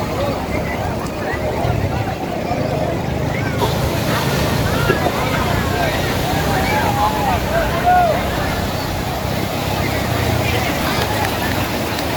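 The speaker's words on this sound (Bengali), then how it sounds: "সমুদ্রের যে ঢেউ আর যে গর্জন, মাই গড, অস্থির।" Sea waves rolling onto the beach at Sugandha, Cox's Bazar, with a steady broadband roar of surf and wind buffeting the microphone throughout, while people talk over it.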